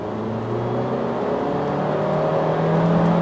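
A 2023 Changan UNI-T with a 1.5-liter turbo engine pulls at full throttle from inside the cabin, giving a steady, rising drone of engine and road noise with no talking.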